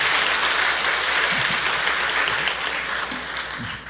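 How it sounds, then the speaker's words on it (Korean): Audience applause fills a church during a testimony about laughter therapy for cancer patients, steady dense clapping throughout at close range that thins slightly toward the end, with faint voices underneath. "어떤 분이 박수를 치시면 그냥 치시면 돼요."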